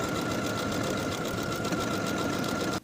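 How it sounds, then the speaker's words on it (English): A sewing machine runs continuously while stitching buttonholes on the waistband of high-waisted A-line shorts, a fast, close, even mechanical whir that stops abruptly at the end, with no voices. "Now I'll sew my buttonholes in place."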